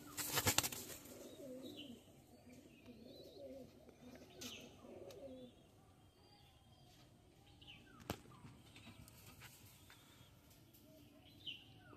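Pigeons housed in cells of a loft coo in soft, low repeated rolls, steady through the first half and then sparser, with occasional faint chirps and a few sharp wing flaps or clicks nearby.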